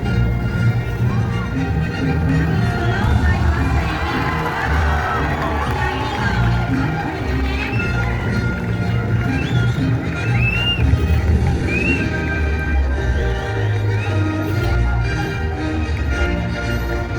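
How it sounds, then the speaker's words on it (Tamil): Crowd noise from an audience at a college Olympic torch lighting ceremony, a steady broad wash of many voices with scattered cheers and calls over about seventeen seconds, loud and continuous throughout. "உங்களது கரகோஷத்தை வழங்குமாறு கேட்டுக்கொள்கிறோம்"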